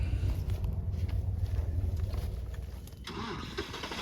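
A tractor with a front end loader runs close by, its engine rumbling heavily at a steady low pitch before easing off near the end.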